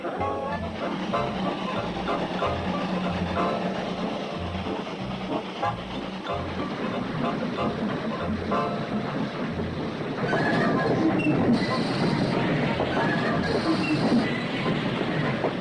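A train rolls steadily along the rails with rhythmic clacking and a rumbling carriage, voices talking faintly over it, growing noisier near the end.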